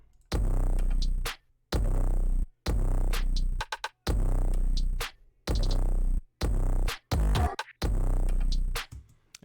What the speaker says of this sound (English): We just used a different 808 and it sounds like this.